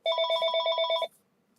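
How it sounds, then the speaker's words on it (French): A telephone bell rings in one bright burst of rapid trilling pulses lasting about a second, then cuts off into near silence, clear and alone. "On va laisser le téléphone sonner."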